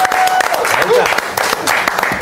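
Studio audience applause on an Israeli television talk show, a dense, steady wash of clapping that carries through the whole stretch, with a voice briefly audible over it.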